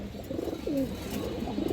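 A black-necked female pigeon cooing nearby, a few soft rolling coos rising and falling over low background noise.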